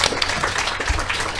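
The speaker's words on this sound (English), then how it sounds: "Let's give Laura Freeman a round of applause" Audience applause at a book festival picture book panel, a steady patter of clapping from a crowd lasting about a second and a half at moderate volume, with no talking.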